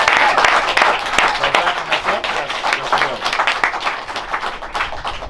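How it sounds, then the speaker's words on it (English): A startup networking audience gives loud, dense applause before a Q&A, many hands clapping at once in a continuous wash that surges and eases slightly but never stops. "Let's give a round of applause first."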